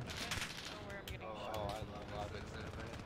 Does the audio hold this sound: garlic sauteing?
no